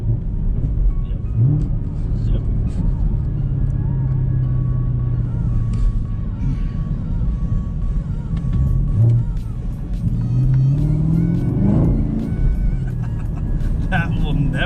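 A pony car's engine revs and pulls hard under acceleration on a test drive, a loud, close rumbling roar that climbs and falls in pitch through gear changes, with people talking over it at times.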